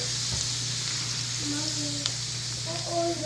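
Garlic sizzling gently in oil and butter in a pan over low heat for Spanish garlic shrimp, a continuous close crackle with a low hum beneath and someone speaking softly over it.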